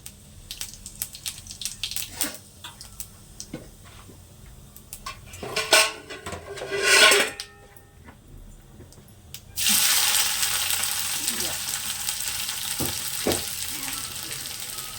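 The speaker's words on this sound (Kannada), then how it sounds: "ಬಾಣಲಿಗೆ ಒಂದು ಮೂರು ಸ್ಪೂನು ಎಣ್ಣೆ ಹಾಕ್ಕೊಂಡಿದ್ದೀನಿ ಇವಾಗ ಜೀರಿಗೆ ಹಾಕೋತಾ ಇದ್ದೀನಿ" Cumin seeds drop into about three spoons of hot oil in a pan and crackle and sizzle in bursts, then a louder continuous frying hiss takes over, with light clinks of a utensil against the pan.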